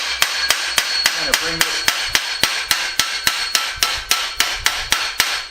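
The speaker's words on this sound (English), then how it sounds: "Now I'm going to see if I can straighten this out by tapping." A hammer taps steadily on a storm-damaged metal frame being straightened over a mandrel, sharp ringing strikes repeating at a brisk even rhythm, close and loud, with a brief murmur of a voice partway through.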